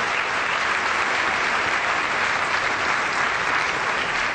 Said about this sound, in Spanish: vamos a darles un fuerte aplauso a los dos